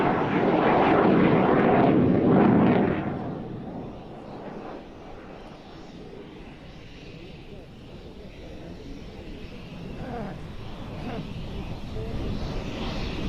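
A brightly painted aircraft, part of a Tiger-themed display, roars past loud and close at first, then its engine drone fades into a steadier, quieter rumble with faint wind noise; a voice talks over it.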